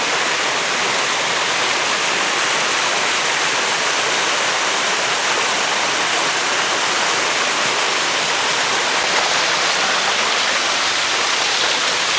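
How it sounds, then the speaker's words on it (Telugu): Steady, dense roar of a waterfall near a forest tribal village, broadband rushing water that stays constant and close throughout with no voices. "ఆ చివరిన అయితే వాటర్ ఫాల్స్ అయితే ఉంటాయి"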